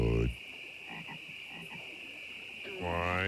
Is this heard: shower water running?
no